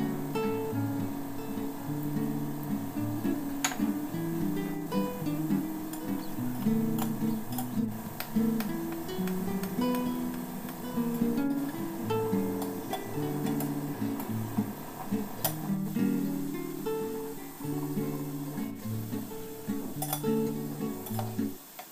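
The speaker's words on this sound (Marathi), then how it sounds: "मोदक तळून घेऊया। तेल छान गरम झालेलं आहे।" Wheat-flour modaks deep-fry in hot oil over a medium flame, a continuous bubbling sizzle with scattered light clicks and taps throughout.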